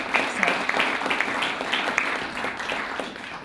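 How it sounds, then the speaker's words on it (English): A gathering honouring historic women breaks into steady, dense applause from a full audience, a close, continuous wash of many clapping hands lasting throughout. "I kind of want to give them a round of applause"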